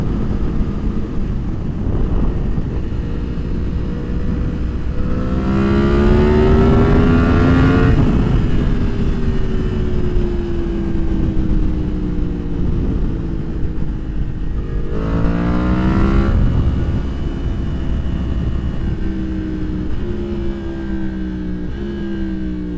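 A 2023 Yamaha MT-10 motorcycle with a Leo Vince slip-on exhaust is heard while riding, the engine note rising through gears in repeated climbing sweeps, loud and close, with steady wind buffeting underneath.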